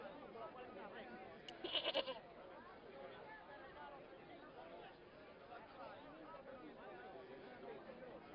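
Goat bleating at a marketplace in the game Broken Sword: Smoking Mirror Remastered, one short bleat early amid steady background crowd chatter and a voice talking over it.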